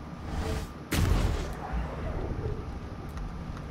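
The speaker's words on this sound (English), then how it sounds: "Time for some Eldritch Blast." Eldritch Blast spell cast in Baldur's Gate 3, a single sharp burst followed by a rumbling boom that decays over a couple of seconds, loud and close, no voice over it.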